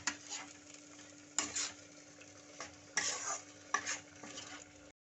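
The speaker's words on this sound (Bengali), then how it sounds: "এখন এবার খুব ভালো করে কষিয়ে নেব।" Prawn masala with fresh coconut paste being sautéed in a pan, soft sizzling under repeated scraping strokes of a spatula that come in bursts about once a second or so.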